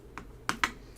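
Sizzix Stamp and Spin Wheel being clicked while making a Christmas card, three short sharp plastic clicks, the first soft and the last two louder and close together, in a quiet room.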